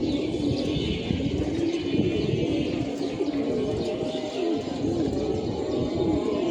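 Pigeons coo in soft, repeated rolling calls that run steadily through the clip, with faint chirps mixed in against a constant outdoor background.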